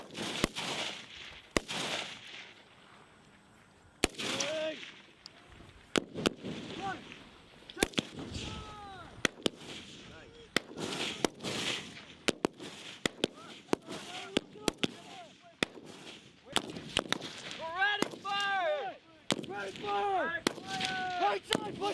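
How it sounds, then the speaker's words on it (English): Repeated sharp gunfire bursts and single cracks from a machine gun during a Marine heavy weapons live fire exercise, loud and close, spread across the whole stretch, with voices shouting in between. "You see green tracers coming out of our machine gun"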